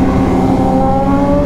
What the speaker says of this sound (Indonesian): Motornya pada ngebut.